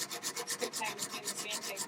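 Sandpaper rubs steadily across a salvaged wooden door, a close, rhythmic back-and-forth rasp of about eleven even strokes, no voices present.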